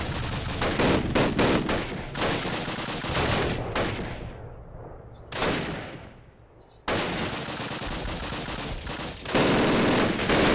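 Rapid gunfire from Call of Duty crackles in dense bursts, with automatic weapons rattling close and loud, a few short pauses and rolling echoes between volleys.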